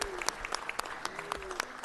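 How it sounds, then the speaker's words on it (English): Scattered applause from a modest audience at a city council meeting, honoring Leonard Tibbs; distinct individual claps are heard at a distance, fairly faint and uneven. "Let's give him a round of applause."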